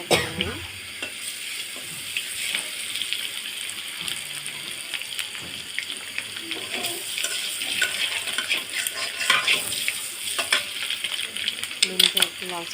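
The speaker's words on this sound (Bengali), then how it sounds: "ডিম একটু ভেজে নিচ্ছি" Eggs sizzle steadily in oil in a pan for Bengali potato and egg dal, with a dense, continuous frying hiss and occasional clinks and stirring scrapes, close and moderately loud, with no talk.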